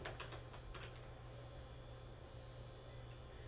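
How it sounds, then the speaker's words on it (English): Quick bursts of keyboard typing at the start, then faint clicking fades into a steady low hum of room noise. "Lathan, I need you to stop typing"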